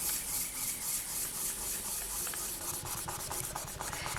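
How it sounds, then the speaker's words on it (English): Plain printing paper is rubbed hard over polymer clay in a repeated rhythmic scratching and rubbing, quiet and close, with no voices. "we're going to grab a piece of plain printing paper again and we're going to burnish it so that it turns into something"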